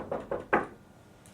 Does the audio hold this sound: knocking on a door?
yes